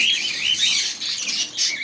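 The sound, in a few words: pet birds chirping in bird shop, budgerigars and finches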